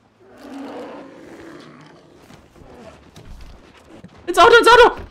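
Bear in the survival video game The Long Dark letting out a short, loud roar near the end, after a stretch of quieter in-game sounds and muffled noises.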